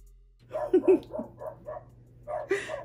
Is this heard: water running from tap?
no